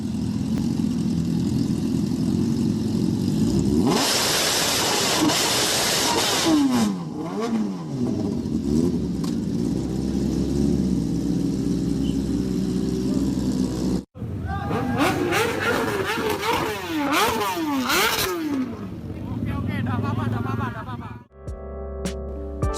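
A big motorcycle engine revs repeatedly in rising and falling bursts, loud and fairly close, with crowd chatter and voices around it and a brief cut midway.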